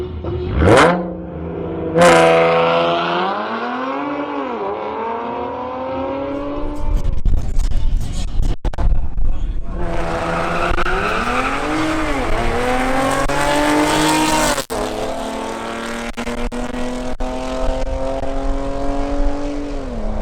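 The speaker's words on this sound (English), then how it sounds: "Now Ramiro Del Rio in his Audi S4 and Javier Arias in his BMW M240i face off in a duel." An Audi S4 and a BMW M240i duel in a timed drag race, engines revving hard and climbing through rising gear-change sweeps, loud and close, with a second run of roaring acceleration and brief tire squeals.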